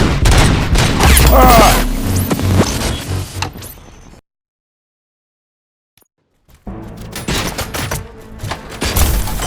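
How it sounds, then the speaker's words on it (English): Rapid bursts of gunfire in the video game Robocop: Rogue City crackle loudly, then cut to near silence before more shots and clatter resume. "Gunshots? What's going on?"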